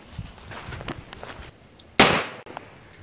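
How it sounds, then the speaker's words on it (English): A homemade claymore device fires with one sharp, loud blast after a few soft shuffling footsteps and handling noises, followed by a brief decaying rumble and then quiet. "We will now load the device, and we will fire."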